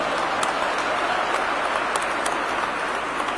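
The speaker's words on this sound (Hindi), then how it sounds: "एक बार अमित शाह जी भाई साहब का जोरदार तालियों से स्वागत और अभिनंदन करेंगे।" Sustained applause from an audience at a Rajasthan government event, welcoming Union Home Minister Amit Shah: a dense, steady wash of clapping that continues evenly throughout at moderate loudness.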